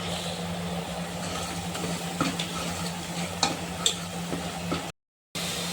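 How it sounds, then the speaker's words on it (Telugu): Masala spices with coriander powder and turmeric frying in a pan for a bitter gourd curry, giving a steady close sizzle with occasional stirring clicks and a brief gap near the end. "ఈ మసాలా పచ్చి వాసన పోయేంత వరకు వేయించుకున్న తర్వాత"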